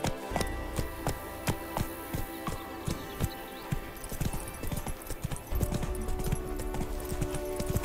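Horse hooves clip-clop at a steady walking rhythm in Witcher 3, with the beat quickening toward the end; the steps sound close and clear over a soft ambient game background.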